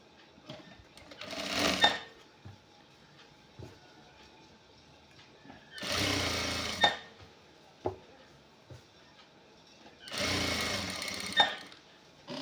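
A sewing machine stitches a checked shirt in three separate bursts of rapid whirring, each lasting under two seconds, with quiet pauses and small handling clicks between.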